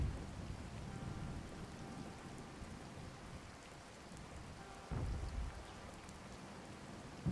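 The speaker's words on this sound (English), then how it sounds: "I don't like all this rain." Steady rain hiss with a low thunder rumble swelling near the end, part of a game battlefield ambience in Regiments, Operation 5 Saber Cut, running continuously with no talk.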